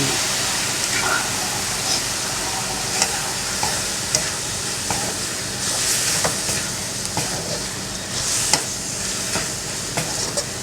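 Spicy frog stir-fries in a pan, with a loud, steady sizzle and repeated scraping of the spatula as the pieces are tossed up close.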